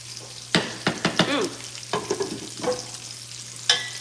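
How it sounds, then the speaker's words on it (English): A spoon scrapes and stirs thick grits in a pot, several irregular bursts of stirring over a low steady hum, fairly close and with no talk. "So just continue to stir"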